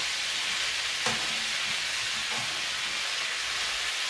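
Broad beans with meat fry in a nearly overfull pan for a Turkish dish, giving a steady, soft broadband sizzle with a couple of faint stirring knocks, and no voices.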